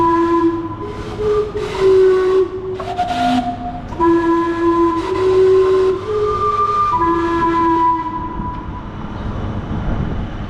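Steam whistles on the Vancouver steam clock sound a halting tune of loud, close, sustained tones at shifting pitches, with short gaps between notes and a low rumble of street noise beneath.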